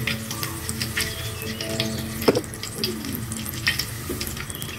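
Kembang goyang rice-flour batter, on a flower-shaped mould, fries one piece at a time in hot oil, bubbling and sizzling loudly up close, with a few sharp clinks and splashes as the mould is shaken.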